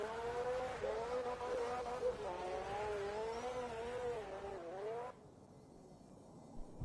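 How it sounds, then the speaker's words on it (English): A car engine in the driving game CarX drones loudly and warbles through rising and falling revs for about five seconds, then cuts out abruptly into near silence. "That engine sound was weird."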